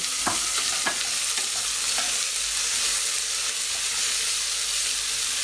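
Onions frying in a pan for an Indian home-made goat curry give a steady, close sizzle, with a few sharp stirring clicks in the first two seconds and the hiss then running on evenly.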